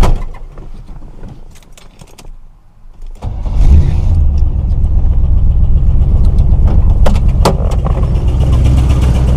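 A 1980s Chevrolet Corvette two-door, around forty years old, cranks and starts after a few seconds of quiet handling noises, then settles into a loud, steady close-up idle.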